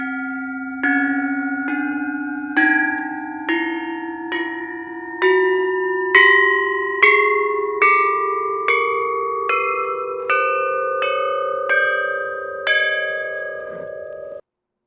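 Korean traditional bronze bells, pyeonjong, are struck one at a time with a mallet in a rising scale of about fifteen clear ringing tones, each note sustaining and overlapping the next, close and alone.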